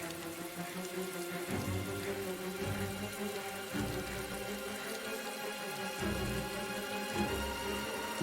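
Steady rain in the video game Heavy Rain pattering and splashing close by, with a dense continuous hiss and no one speaking.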